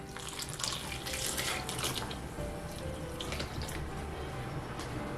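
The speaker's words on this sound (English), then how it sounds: "And now I'm going to pour in some water." Water pours steadily into a bowl of blended egusi and onion, a continuous splashing, gurgling stream that stays close and fairly loud from start to finish, with no talking.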